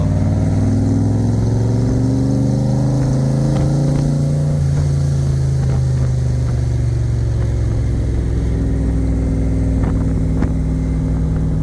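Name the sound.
roadster engine during test drive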